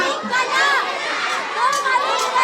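A crowd at a campaign-style rally shouting together loudly and continuously, a dense wall of many voices with some higher children's cries, close and sustained throughout.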